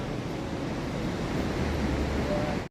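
Khone Phapheng waterfall in Laos sends up a dense, continuous roar of crashing water that fills the whole stretch at even loudness before it cuts off abruptly.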